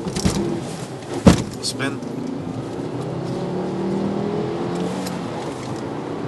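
A 2011 Volvo C30 T5 Polestar launching toward 60 mph, heard from inside with a sharp thump early on, then a rising engine note through the gears under road noise, with a brief spoken word near the start.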